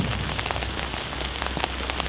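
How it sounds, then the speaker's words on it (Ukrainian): Heavy spring rain pouring outdoors during a funeral gathering, a steady dense patter of drops drumming on surfaces close by, with no talk heard. "коли ми стоїмо тут під цим проливним вісняним дощем"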